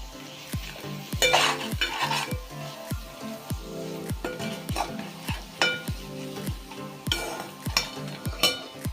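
A spoon stirs chili powder through a methi rice mixture in a pan, with a steady run of close, regular scraping strokes over a soft sizzle and occasional louder clinks against the metal, and no talking.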